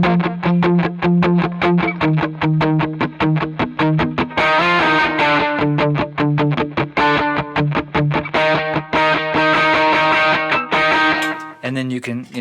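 An electric guitar runs through a pedalboard delay set to a very short subdivision, giving a slapback effect. Rapid, evenly repeating picked notes sound loud and close, with distortion and chorus colouring them, before a brief pause near the end.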